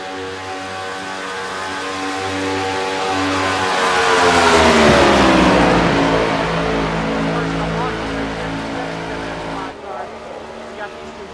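NASCAR stock cars drafting at Daytona in the iRacing game, a loud engine roar that swells as the cars close in and pass, with pitch sliding down, then fading slightly with a steady drone.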